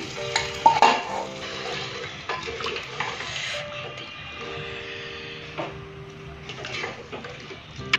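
Fried onion and garlic tipped into a pan of goat trotter curry, a moderate sizzle with clinks and scrapes of utensil on pan, close and fairly quiet.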